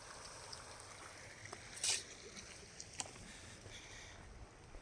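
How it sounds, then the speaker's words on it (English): A stream flows softly at Peace Valley Nature Center near Lake Galena, a faint, steady outdoor hiss of moving water with a brief brighter splash-like burst partway through. "One of the things I enjoy most about the outdoors is the soothing sounds of nature, such as that water flowing."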